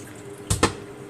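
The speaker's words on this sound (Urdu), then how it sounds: "اور یہ پانی گرا دیا میں نے" Wash water is tipped out into a kitchen sink after rinsing, heard as two quick, close splashes in a row against a quiet room.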